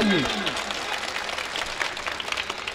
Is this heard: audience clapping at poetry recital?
yes